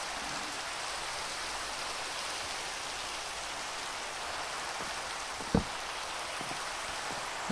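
Steady Minecraft rain at night hisses as a dense, even wash of falling drops, with one brief sharp tick partway through and no voices.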